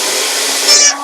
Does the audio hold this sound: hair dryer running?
yes